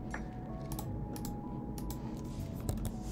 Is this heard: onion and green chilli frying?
no